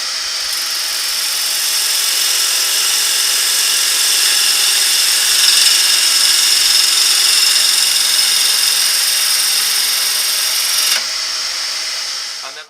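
Wood lathe turning a bowl blank round with a tool resting on the spinning piece: a loud, steady high-pitched whine and hiss of cutting, continuous and close, ending abruptly near the close.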